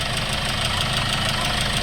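A replacement D4CB diesel engine in a Hyundai Starex idles loudly and close, a steady rough rumble with an even knocking pulse and no voices over it.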